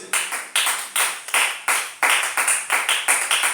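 A congregation claps in a steady rhythmic beat, about three claps per second, crisp and close, with no voices over it.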